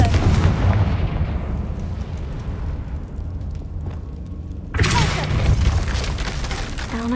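A Confringo blasting spell in Hogwarts Legacy bursts with a heavy boom that trails into rumbling decay, followed a few seconds later by a second sharp blast with crackling debris; no talk is heard.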